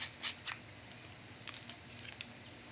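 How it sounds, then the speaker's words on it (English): Barber scissors cutting hair close to the microphone, giving a few quiet, crisp snips in two short bursts against a faint background hiss. "these scissors have very special"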